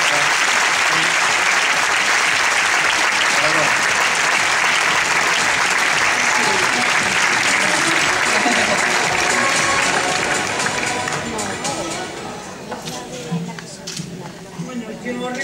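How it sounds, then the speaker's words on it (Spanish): Sustained audience applause at the AECO Ourense 2011 award gala as Gimnasio 2000 receives its prize. Dense, loud clapping fills the room for about ten seconds before gradually thinning and fading, with some voices beneath. "Outro aplauso para facerle máis curta esta viaxe un pouco longa."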